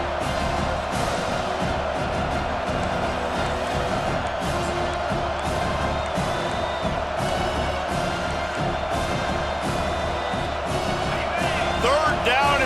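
Loud, continuous stadium crowd roar and cheering from a college football game in EA Sports College Football 25, swelling on third down with a commentator talking over it.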